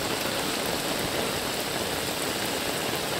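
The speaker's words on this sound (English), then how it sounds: "unbelievable the amount of rain that's come down today." Heavy rain pouring down steadily in China, a dense, continuous roar of water close by with no letup and no voices.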